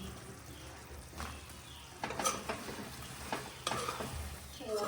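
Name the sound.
deep-fried chicken being stirred into sauces in a pan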